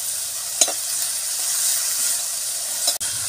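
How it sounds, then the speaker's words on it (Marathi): Moth beans roasting in hot oil with turmeric and salt, giving a constant bright hiss and sizzle, with a couple of quick clicks from stirring against the pan. "आता चांगली तेलात भाजून घेऊया."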